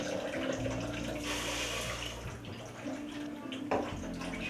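Water poured into sugar in a cooking pan on the stove while making sugar syrup for paneer basundi, a steady close splashing and running-water wash through the whole stretch, with a faint voice underneath.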